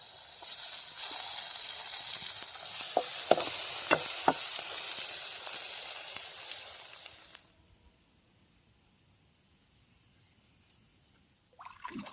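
Ginger-garlic paste and spices frying in a pan with a loud, close sizzle and a few stirring knocks, which cuts off abruptly to near silence before a short noise at the end.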